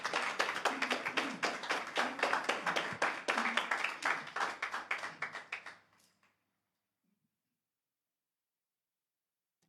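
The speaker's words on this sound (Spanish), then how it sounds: "Dale ese aplauso a Jesús el Señor." Dense applause from a church congregation, steady and lively for several seconds, then it quickly fades and leaves silence.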